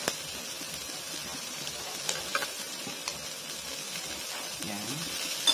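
Tofu dropped into a pan of lightly cooked onion and chili, giving a steady low sizzle with small stirring clinks and scrapes throughout, close and moderately quiet.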